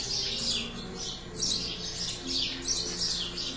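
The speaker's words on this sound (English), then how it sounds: "And lots of birds, which is a lovely sound." Birds chirp and sing outdoors in a garden with bougainvilleas, giving bright, repeated bursts of tweeting in an irregular rhythm, moderately close with no voices.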